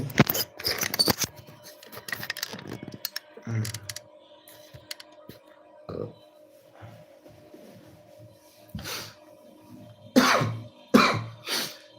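A few short, sharp coughs from a person with a cold, with gaps between them, close by, mixed with light shuffling and handling noises in a quiet room at home.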